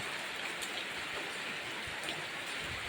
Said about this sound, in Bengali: বৃষ্টি আসছে তো বৃষ্টি কমলেই বসে ফেলবো আবার